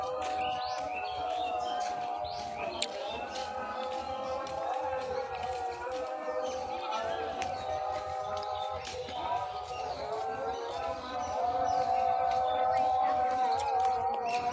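A small bird chirps near its nest in a mango tree, giving soft, scattered tweets against a steady background hum.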